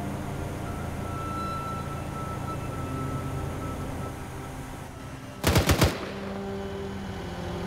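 A short, loud burst of automatic gunfire, four or five rapid shots, cuts through steady ambient background noise in the ArmA game on the Altis map with the Ravage mod.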